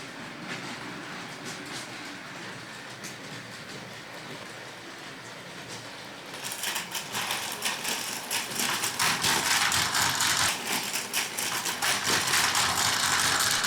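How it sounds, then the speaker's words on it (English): A Plarail toy Shinkansen train runs along its plastic track with a continuous rattling clatter that grows noticeably louder and busier about halfway through, then stays close and prominent. "Let's see whether the train can smoothly travel along the newly built route exactly as planned."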